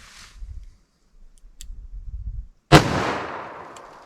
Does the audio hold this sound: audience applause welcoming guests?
no